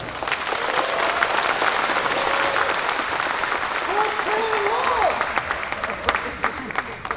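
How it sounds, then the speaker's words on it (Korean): A large crowd gives hearty applause at the inauguration ceremony of the 41st Gapyeong county governor, a loud, continuous wash of clapping with voices calling out over it before it thins toward the end. "힘찬 박수로 맞이하여 주시기 바랍니다"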